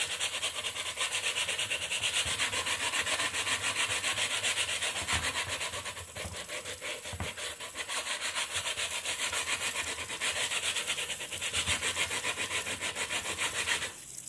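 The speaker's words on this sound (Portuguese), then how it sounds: "vamos lixar, vai ficar bem lisinho." Continuous rhythmic rubbing of sandpaper on a vintage wooden dresser, close and steady for the whole stretch with brief pauses in the strokes.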